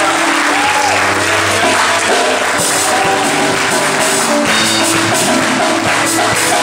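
A church congregation at a Sunday service applauds loudly and continuously, dense clapping filling the room throughout with music lingering underneath.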